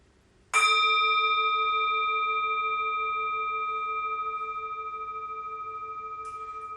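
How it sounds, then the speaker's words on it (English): A single meditation chime is struck once during a yoga relaxation and then left to ring, a clear bright tone with a long, slowly fading sustain in a quiet room, with no voices. "I will mind the time and ring the chime when it's time to come back to the room"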